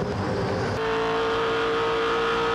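Onboard V8 Supercar racing engine in Marcus Ambrose's car at Pukekohe Park Raceway, revving hard and then holding a loud, steady high-pitched drone after a quick gear change.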